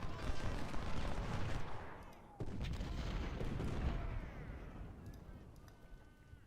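Battle gunfire in the video game Ultimate General: Civil War, a rolling mass of musket volleys and artillery booms, dense at first, then a sharp break and continued distant firing that fades toward the end.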